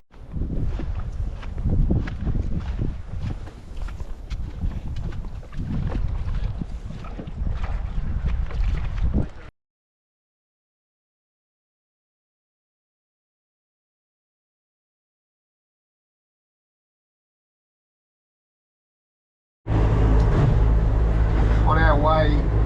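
Sailboat running under motor out of Pittwater: a steady engine drone mixed with wind buffeting the microphone, then a long stretch of silence before the engine and wind noise return loud and close.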